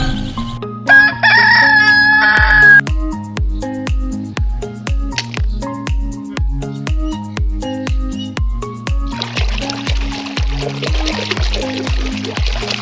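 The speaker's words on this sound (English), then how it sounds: "R for rooster." A rooster crows once loud and drawn-out near the start, followed by a steady rhythmic synthetic music loop with repeated beats.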